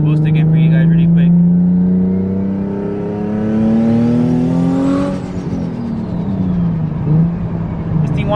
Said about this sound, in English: Let's go into boost again for you guys really quick.